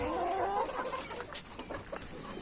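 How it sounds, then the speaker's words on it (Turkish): Brahma chickens clucking and murmuring while being given feed in a coop, several birds close by in a busy, uneven chorus. "Şimdi bir de şuradan brahmalara yem verelim."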